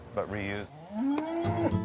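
Cows on a California farm moo loudly and close, a short low call followed by a long drawn-out moo, with no talk.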